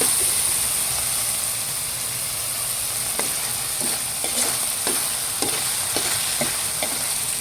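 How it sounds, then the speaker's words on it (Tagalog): Ground meat sautéing in a pan for ginisang upo, a steady loud sizzle with occasional scraping stirs of a utensil, continuous and close, no speech. "Kailangan pong ay ginigisa."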